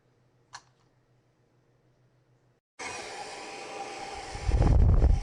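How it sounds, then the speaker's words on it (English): A hair dryer switches on after a quiet stretch with one brief click, blowing a steady broadband whoosh that grows louder and rougher near the end. "I just have your standard hairdryer. I'm letting it warm up right now."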